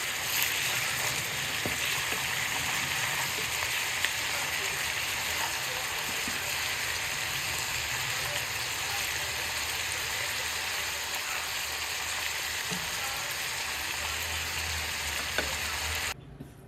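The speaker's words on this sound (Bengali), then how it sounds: "কিমার মধ্যে কিমাটা কাবাবের মতো করে ভেজে নিচ্ছে" Minced beef shaped like kebabs and seasoned with salt, pepper and coriander leaves fries in a pan with a steady, even sizzle and faint occasional crackles, close by and unbroken, with no talk.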